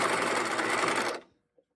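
A sewing machine stitches a fabric maze in a fast, loud, steady mechanical run that stops abruptly after about a second, followed by a faint click.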